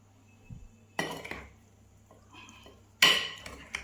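Lemon pickle stirred in a vessel by hand, with sharp metallic clinks of a spoon against the container at about one and three seconds and softer scraping in between, close and without talk.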